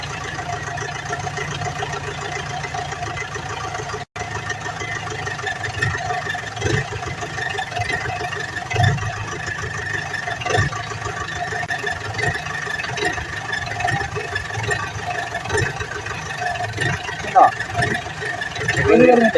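A Mahindra Jeep's gearbox runs in reverse with a steady, low mechanical drone and engine hum that continues for a long stretch while someone talks over it.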